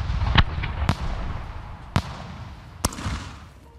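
Fireworks from a base trigger in the survival game SCUM pop in four separate sharp reports spaced about a second apart, fading over a low rumbling bed.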